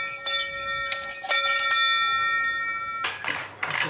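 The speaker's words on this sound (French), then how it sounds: "Une cloche." A bell rung at the gate of a manor gives several bright, close, ringing strikes whose tones linger, followed by rustling and movement near the end.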